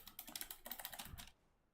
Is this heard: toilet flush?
no